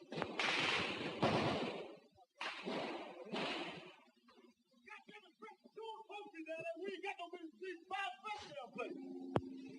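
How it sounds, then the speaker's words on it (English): Bursts of machine gun fire ring out in a street battle among dirt and cactus, several rapid, distant-sounding volleys in the first seconds, followed by someone talking over sparse quieter noises. "there is also a machine gun down the street to the left"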